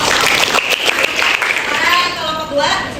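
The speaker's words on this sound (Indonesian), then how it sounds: "bagus sekali, tepuk tangan" Class of teachers applauding after a group presentation, a loud close wash of clapping that gradually thins out, with a voice speaking under it toward the end.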